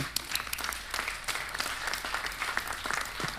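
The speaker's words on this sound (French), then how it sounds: "On vous applaudit" A conference audience applauds panelists at a session on digital mediators and advisers, a sustained wash of many hands clapping, moderately distant, without talk over it.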